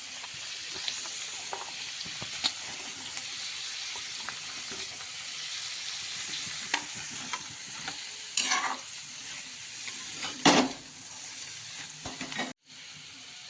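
Carrots and cabbage sautéing in a pan, a steady soft sizzle under repeated stirring scrapes and clinks of a spoon against the pan, with a few louder scrapes near the end.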